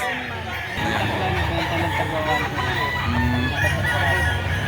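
Rooster crowing at a busy chicken market in Lipa, Batangas, the calls rising through a dense wash of crowd noise, clucking and nearby voices talking throughout.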